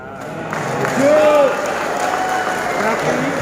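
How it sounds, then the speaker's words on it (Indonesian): Audience applauding during an official's speech at a national meeting of school supervisors, a burst of clapping that swells at about one second, with voices calling out over it. "Bila saya bicara tunjangan, semua tepuk tangan."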